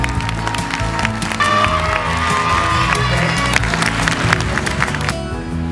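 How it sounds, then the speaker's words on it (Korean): Audience at a dance department entrance ceremony of a Seoul arts school claps and cheers in a steady, dense wash of applause with scattered shouts, sustained loud throughout with a brief dip near the end. "박수 부탁드리겠습니다."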